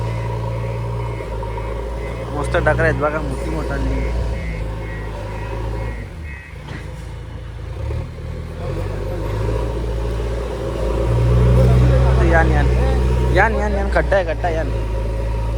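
A JCB excavator's diesel engine runs steadily on a rough dirt track, a deep low rumble that swells louder near the end, while people talk over it.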